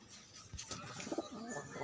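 Faint, low cooing of pigeons over a soft background hiss, a few murmuring calls in quick succession.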